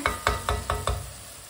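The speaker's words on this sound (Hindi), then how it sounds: "मसालों को 1 मिनट के लिए पका लेंगे।" Spices frying in a pan, stirred in five quick regular strokes, each scrape bringing a close sizzling crackle that fades out over the last half second.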